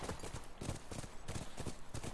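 Rapid, rhythmic hoofbeats of a galloping horse in The Last of Us Remastered, steady and fairly close, with a busy game soundtrack underneath.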